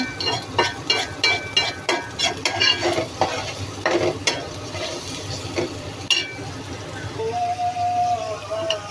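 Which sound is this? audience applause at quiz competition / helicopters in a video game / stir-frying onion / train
stir-frying onion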